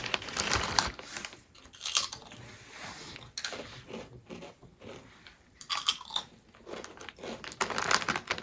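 Close crunchy biting and chewing of an Egyptian packaged snack, sweet-pepper-flavoured Long Tops, with repeated sharp crunches in short bursts and no talk.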